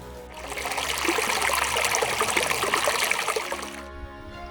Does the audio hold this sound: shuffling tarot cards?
no